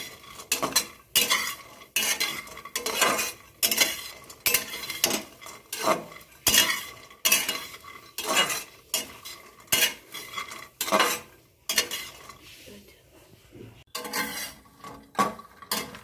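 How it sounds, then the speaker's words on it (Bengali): Raisins being roasted in a pan for a naru sweet, a metal spoon scraping and clinking against the pan in a steady rhythm of repeated strokes, close and fairly quiet, with a faint sizzle between the stirs. "এক বাটি কিশমিশ নিলাম এটাও একটু রোস্ট করে নেব"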